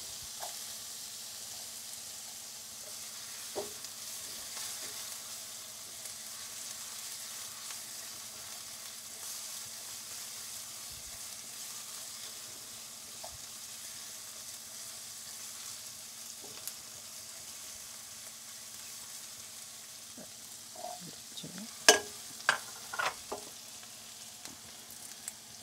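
Ginger and garlic frying in a pan for a mango and coconut fish curry give a faint, steady sizzle, with a few brief clinks and stirring knocks near the end.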